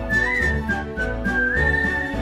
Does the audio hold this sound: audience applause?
no